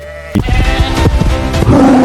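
A sheep bleats loudly and close by in a few wavering, nasal calls, then a higher sustained bleat closes the sequence.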